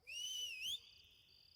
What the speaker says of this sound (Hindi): अरे कौन सीटी बजा रहा है ये?